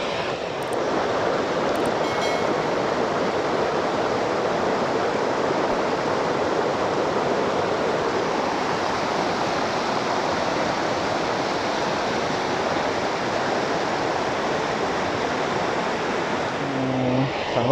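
Rushing river water along the rocky Gal Oya flows as a steady, loud, unbroken roar close by, with no voices over it.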